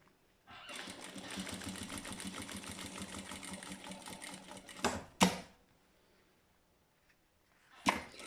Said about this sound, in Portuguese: E vou passar uma costurinha aqui em cima do vinco do meu viés.